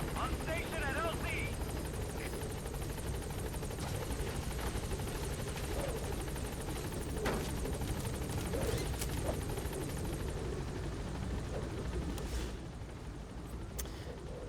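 A helicopter in the video game Metal Gear Solid V lifts off, its rotor a continuous throbbing whir at moderate level, with voices talking over it throughout.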